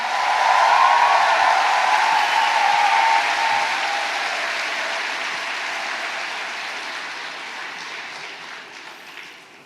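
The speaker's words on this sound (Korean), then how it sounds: "큰 박수 부탁드립니다" Large rally audience applauds at a Korean presidential campaign event for Ahn Cheol-soo, a dense burst of clapping that peaks early and gradually tapers off.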